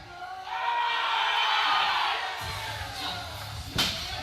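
A near-full house at a USA Powerlifting Virginia winter meet roars for a lifter's deadlift attempt, a broad crowd swell with scattered shouts and whoops that fades to murmur, then a sharp thud near the end.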